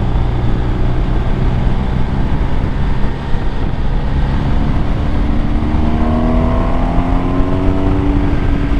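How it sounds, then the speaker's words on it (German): Ducati V2 motorcycle engine heard close and loud while riding, a continuous throaty drone whose pitch climbs toward the end as it revs up. "Ich liebe Ducati Sound."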